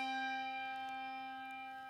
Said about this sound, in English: Why don't you ring a few bells?